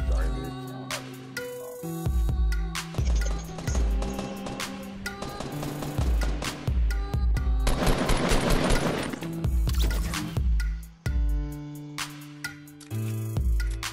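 Rapid bursts of gunfire in a Fortnite Battle Royale match, dense overlapping shots rattling over a steady backdrop of game music, loud and continuous with brief pauses between volleys.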